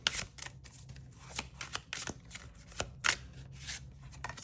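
Tarot cards are shuffled and drawn by hand, a run of soft, quick riffling slaps and crisp snaps, close and quiet, with irregular bursts and brief pauses and no talking.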